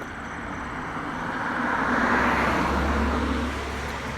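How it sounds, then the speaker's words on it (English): A car speeds up Lafayette Street beside Yantic Cemetery in Norwich, Connecticut, its engine and tire noise swelling as it passes close by, then fading back into steady roadway rumble. "The car coming real quick up Lafayette Street."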